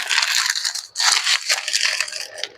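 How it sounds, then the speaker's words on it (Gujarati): Thin, fine sev is crushed by hand for potato sev rolls, a close, continuous dry crunching with one short pause. "તો આપણે પેલા તો તોડી નાખશું, થાળીમાં લઈ લઈશું."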